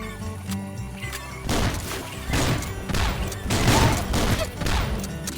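Repeated shotgun blasts in the swamp-defense video game Swamp Attack, several loud booming bursts coming in quick succession over a constant musical game soundtrack.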